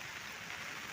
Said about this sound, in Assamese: বহুত বৰষুণ আহিছে গাইজ